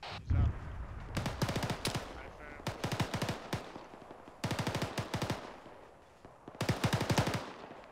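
Bursts of machine gun fire in a military video game, four rapid rattling volleys separated by short pauses, loud and close, with radio chatter from players around it.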